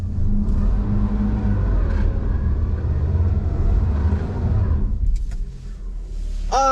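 A 2024 Toyota Prius AWD on a slip test, its motor droning steadily at a strained, even pitch, loud and close, before easing off near the end with a brief squeak.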